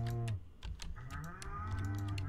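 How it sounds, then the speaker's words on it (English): Cattle mooing on a farm in the video game Stardew Valley, a low drawn-out lowing call up close at the start, followed by a busier stretch of game sounds and another low moo near the end. "Hi, cows."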